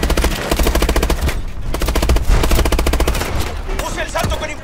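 Soldiers fire rapid bursts of automatic gunfire in Call of Duty: Advanced Warfare, loud and continuous across the whole stretch with overlapping shots and battle noise.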